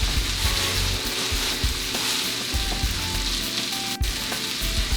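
Oil and spices sizzle in a pan for beef stroganoff, a dense continuous crackle close by, with soft knocks and scrapes as the oil is moved around and one sharp clack near the end; no talk.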